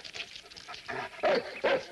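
A dog gives a few short, sharp barks and whimpers, close by, the last two yelps loudest, with no talk over them.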